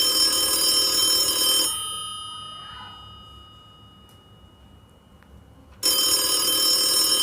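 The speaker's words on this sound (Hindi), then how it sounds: "Old ringing phone." An old telephone bell rings loud and close in two long bursts, separated by several seconds of near silence.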